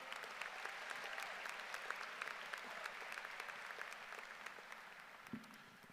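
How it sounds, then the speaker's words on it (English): Applause fills a high school graduation ceremony: a large crowd claps steadily throughout, heard from a distance and fairly faint, with one brief louder knock near the end. "Let's give them one more round of applause."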